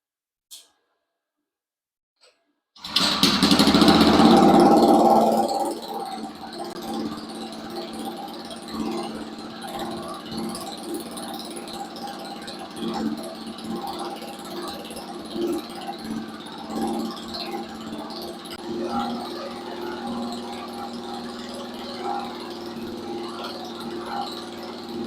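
The small engine of a rat rod go-kart starts on its first test fire, roars loudly for a few seconds, then drops to a steady rough idle that chugs on close by for a long stretch.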